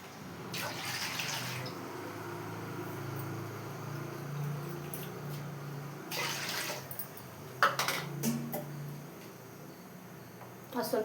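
Water is poured into a pot to make rice flour dough for modak. It comes as a few separate bursts of splashing over a quiet background hum.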